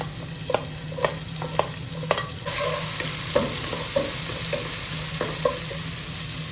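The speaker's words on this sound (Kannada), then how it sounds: "ಗಾರ್ಲಿಕ್ ಫ್ರೈ ಆಗಬೇಕು ಒಳ್ಳೆ ಒಳ್ಳೆ ಫ್ರೈ ಆದಮೇಲೆ ಶುಂಠಿ ಮತ್ತು ಬೆಂಜಿಲ್ಲಿ ಹಾಕಬೇಕು ಶುಂಠಿ ಮತ್ತು ಬೆಂಜಿಲ್ಲಿ ಹಾಕ್ತಿದ್ದೇನೆ" Garlic, ginger and green chilli frying in a pan for palak paneer, with a steady sizzle under a series of sharp, regular spatula scrapes and knocks from stirring, close and fairly loud, no talking.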